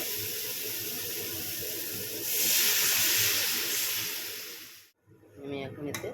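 Water poured onto a frying spice paste for fish curry hisses and steams loudly in the pan, swelling midway, then cutting off abruptly with brief sounds after.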